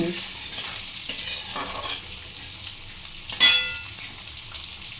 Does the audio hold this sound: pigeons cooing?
no